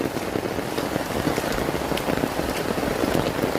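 Heavy rain pours down steadily on the way to a corn field, a dense, even hiss of drops hitting surfaces that continues without a break.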